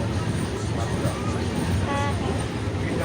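A train pulls away, heard from inside the carriage as a dense, steady rumble of wheels and car noise that fills the whole stretch, with faint voices mixed in.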